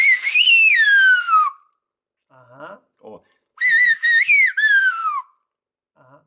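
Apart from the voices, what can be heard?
Silbo herreño whistled speech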